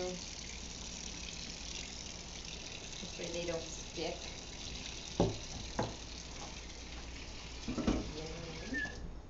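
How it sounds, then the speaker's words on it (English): Cold water, a tablespoon or two, splashes into a pan of meatballs, a brief sizzle and spatter heard faintly under a man's speech. "put a little touch of water, cold water, just a tablespoon or 2"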